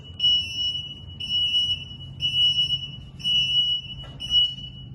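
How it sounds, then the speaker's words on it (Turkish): Five repeated electronic alarm beeps from a Kowey industrial robot's Y-axis servo alarm, high-pitched and steady, each lasting most of a second with short gaps, over a low mechanical hum. "şekilde olduğu gibi robot Y servo alarma geçecek"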